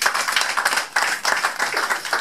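Scattered hand clapping from a small group at a foundation general meeting in Paris, irregular bursts of claps that swell and dip without any talking.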